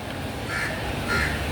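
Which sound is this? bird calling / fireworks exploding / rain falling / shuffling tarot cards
bird calling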